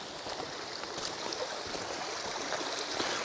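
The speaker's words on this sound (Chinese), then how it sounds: "在这个位置，我们就能听到很大的流水声。" A mountain stream in deep forest in Zheng'an, Guizhou, rushes with a heavy flow into a pool, giving a steady broadband wash of water at close range, with no voices.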